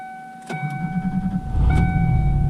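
A car engine with a suspected weak battery cranks briefly and then catches, settling into a steady, close idle rumble with no voices.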